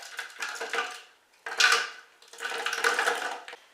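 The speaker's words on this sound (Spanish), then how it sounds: "And so we're going to add 2 cups of berries to the blender." Two cups of berries tumble into a blender jar for a healthy drink, three bursts of rattling, clattering pours with short pauses between them, close and fairly loud with no talking.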